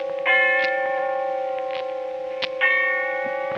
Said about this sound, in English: And the sound of the bell tolling away in the darkness of early evening.